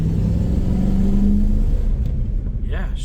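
A 1963 Oldsmobile Cutlass F85 driving fast, its engine a loud steady low rumble with a brief rising tone, which eases off as someone speaks over it near the end.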